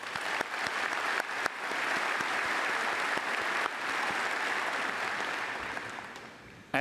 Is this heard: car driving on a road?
no